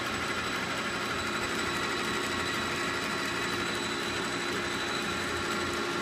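A South Bend 480RN metal lathe runs with its power feed engaged, carriage moving toward the chuck, giving a steady, even mechanical hum and whir that holds unchanged throughout, with no talking.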